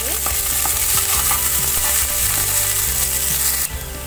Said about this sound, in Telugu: హీట్ అయిన తర్వాత మనం ముందుగా కట్ చేసుకున్న 4 ఉల్లిపాయలు వేసుకొని దానికి వచ్చే వరకు వేయించుకోవాలి